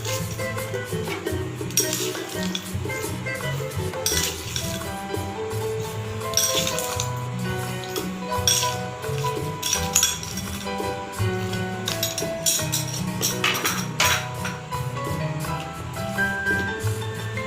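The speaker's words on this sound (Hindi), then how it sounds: "अब मैं इसमें थोड़ी सी आइस यानी कि बर्फ़ डालूंगी।" Ice cubes drop into a glass of sweetened milk soda with jelly, making repeated bright clinks and rattles over steady background music.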